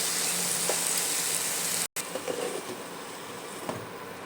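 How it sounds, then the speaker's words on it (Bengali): Spice paste sizzling and frying in a pan just after a little water goes in, a steady close hiss with a brief drop in the middle, then continued crackling sizzle with no talk. "অল্প একটু জল দিলাম মশলাটা কষানোর জন্য"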